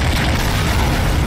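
A Joker Javelin weapon in a video game explodes with a dense, sustained booming roar that fills the whole moment, loud and unbroken, with no voices.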